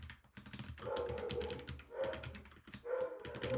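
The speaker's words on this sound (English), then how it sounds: "Dog's barking." A dog barks and whimpers in short repeated bursts, fairly faint and indoors, with a few quick clicks in the background.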